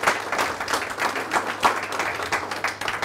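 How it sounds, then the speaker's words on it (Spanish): A lecture audience gives a round of applause for the young people at a geology talk, with uneven, pulsing hand claps from a modest crowd and no talking over it. "un aplauso para la gente joven"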